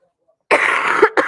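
A person coughs and hacks up close, a harsh burst lasting about half a second followed by a shorter second cough, loud against silence.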